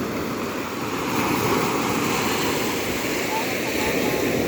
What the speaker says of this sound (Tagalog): Parang bumagal na yung alon.